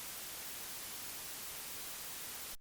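A steady, faint hiss of digital audio dither noise, even and unchanging, cutting off abruptly at the end.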